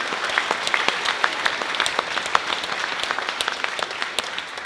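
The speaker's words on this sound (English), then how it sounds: "we'll applaud nice and loud and they can hear us wherever they are" Audience applause at a seventh grade band concert, a dense crowd clapping with sharp individual claps standing out, steady and fairly close throughout.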